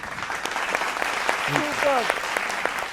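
An audience at a singing show finale claps steadily, with scattered sharp hand claps over a dense patter, while a voice speaks over the applause.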